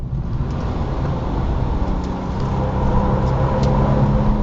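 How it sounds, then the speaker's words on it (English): A 2007 Porsche 997 Turbo at speed on the Nordschleife, its engine a steady, loud drone with heavy wind and road roar holding level throughout. "So the car reaches about 220 again through here"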